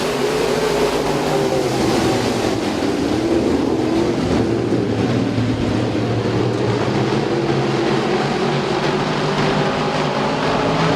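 Race car engines roaring steadily through a heat race at a speedway, a loud continuous engine drone with shifting pitch that fills the whole stretch without a break.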